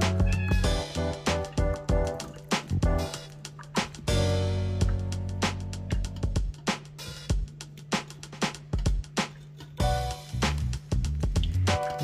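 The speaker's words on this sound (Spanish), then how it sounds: "No sé si escuchan al gato, pero está atento a que le regale un trozo de carne de pescado." A cat meows repeatedly while a pejerrey fish is being filleted for its flesh. The close, insistent calls come amid frequent sharp knocks and clatter.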